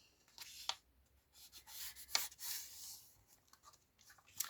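A paper page of an altered book is folded over by hand, giving soft rubbing and crinkling swipes with a few sharper creasing scrapes, quiet and close, with no talking.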